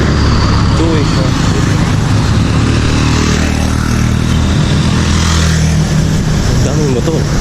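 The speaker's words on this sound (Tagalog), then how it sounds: "Daming motor." Many motorcycles and cars pass along a busy street in Krabi, Thailand, forming a loud, continuous engine roar close by, with people talking over the traffic.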